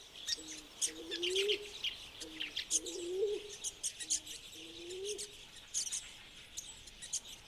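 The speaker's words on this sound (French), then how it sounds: "Tout comme ces tourterelles de Madagascar." Madagascar turtle doves coo in a repeated low, rolling phrase, three times at even intervals, near water in Madagascar, while other birds chirp and twitter overhead.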